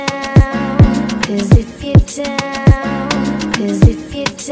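Full drum arrangement of a song, with log drum patterns layered over a dense beat of punchy kicks, sweeping drops and crisp percussion, loud and continuous with a steady driving rhythm.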